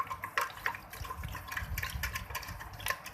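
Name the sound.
cold water poured into curd for lassi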